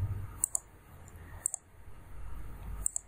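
Computer mouse clicks while working in SolidWorks CAD software: three sharp double clicks spaced about a second apart, close and crisp over a quiet room.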